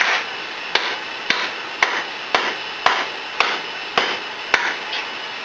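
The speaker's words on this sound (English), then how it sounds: "Mallet." A fiber mallet taps dry flanges onto a gear housing at Geno's Air Cooled, landing about nine sharp, evenly spaced knocks, close up and fairly loud, with no talking.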